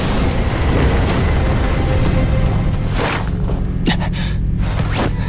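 Phoenix blast attack from an animated series erupts as a loud, sustained roaring explosion that fills the whole clip, with sharp cracking bursts near the end.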